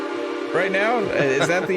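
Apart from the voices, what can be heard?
train whistle sound effect, train from Back to the Future 3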